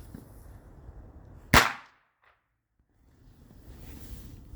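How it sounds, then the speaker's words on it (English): A single sharp, loud bang from a United States brand firecracker goes off outdoors, cracking suddenly against faint background hiss and then decaying quickly into near silence. "Firecrackers from United States."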